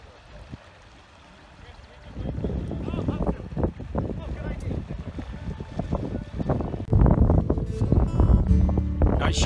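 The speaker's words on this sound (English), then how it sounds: "Not sure you're gonna be able to hear with this wind." Wind buffets the microphone on a remote Maine canoe trip along the St. John River, a soft rush at first that swells into loud, gusty rumbling, with water and boat noise underneath and people talking.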